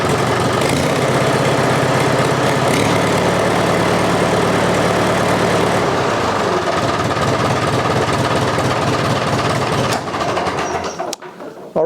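An old tractor engine, cold and running with its muffler removed, idles with a rough, loud, steady low rumble that shifts in pitch partway through before cutting off abruptly near the end.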